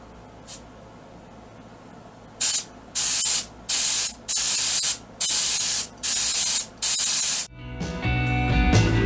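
Aerosol spray paint coats stars on a wooden flag: after a faint early puff, seven sharp hissing bursts follow in a steady rhythm, each about half a second long, close and loud, then a different broadband rustle takes over.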